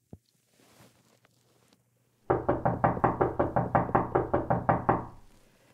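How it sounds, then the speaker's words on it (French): Knocking on a door: after a near-silent start, a quick run of about fifteen firm, evenly spaced raps sounds close and loud, with no talking. "Alors cognons à la porte de Mimi Coquelicot."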